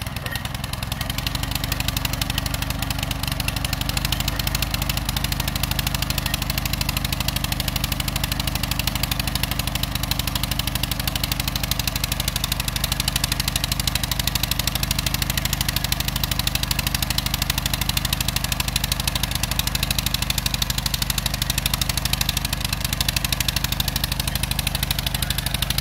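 Garden tiller engine running steadily while tilling garden beds, giving a loud, continuous mid-to-low mechanical drone that is close and unbroken for the whole stretch, with no talking over it.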